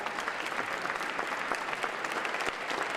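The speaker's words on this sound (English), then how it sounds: "Give yourselves a nice round of applause" Audience applause at the close of a Black Excellence on the Hill event, a steady dense clapping from a crowd sustained evenly for the whole stretch, no voices over it.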